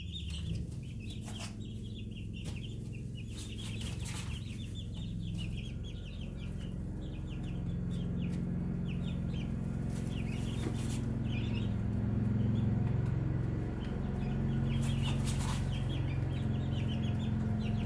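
Backyard chickens cluck and chirp steadily at a moderate distance in a coop with bedding, with soft scratching and rustling underneath the repeated clucks.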